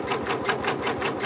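A Janome MB4 embroidery machine stitches applique, a fast steady rhythmic needle chatter close by, about five or six strokes per second, with no talking.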